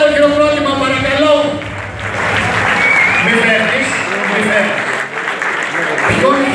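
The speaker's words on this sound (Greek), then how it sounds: "Ένα μεγάλο χειροκρότημα, παρακαλώ" Audience applause at a WABBA International Mr. Hellas bodybuilding contest, a sustained broad clapping wash lasting the whole stretch, fairly loud, with a voice speaking over the start on a PA.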